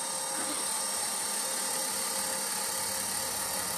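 A linear actuator driving a snow blower chute, giving a steady high-pitched electric motor whine that runs close and unbroken from start to finish.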